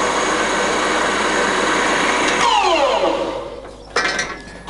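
A Victor 400 x 1500G centre lathe runs through its gears, a steady mechanical whine and hum that shifts pitch midway, dips, then gives a brief clunk as the speed changes.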